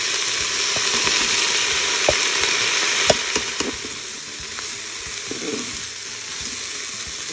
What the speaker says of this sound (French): au bout d'1 minute, on ajoute les lentilles préalablement rincées